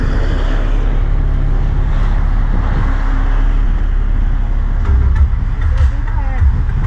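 A car engine idles steadily with a low continuous rumble throughout, while people talk over it nearby.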